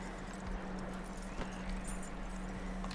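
Horse hooves clip-clopping at a steady walking pace in the Western video game Red Dead Redemption 2, quiet and close, with a low constant hum underneath.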